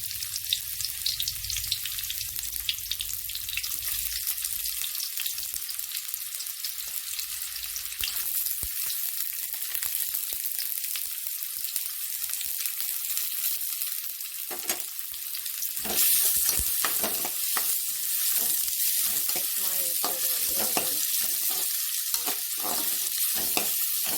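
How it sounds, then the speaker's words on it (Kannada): Chopped onions fry in oil on a tawa for crab sukka, a constant loud hissing sizzle close by, with quick rhythmic stirring scrapes becoming more frequent in the second half and no voices. "ಎಣ್ಣೆ ಹಾಕಿ ಸ್ವಲ್ಪ ಕಟ್ ಮಾಡಿಟ್ಟಿರುವ ಈರುಳ್ಳಿ ಹಾಕ್ತೀನಿ"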